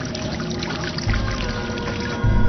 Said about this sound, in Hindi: हाँ, बहता हुआ पानी।